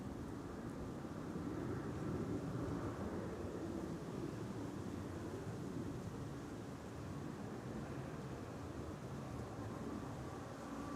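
A Garuda airliner approaching Amsterdam Schiphol Airport, heard as a continuous distant jet rumble and hiss that swells slightly early on and then stays level, with no one speaking.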